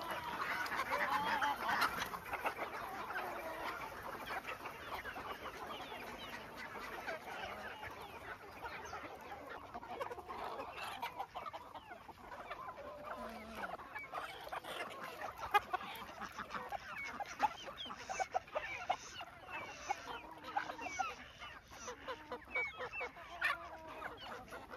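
Free-range desi (gavran) chickens on a poultry farm during the rainy season cluck faintly and at a distance, a scattered, continuous flock chatter with occasional sharper calls and no talk.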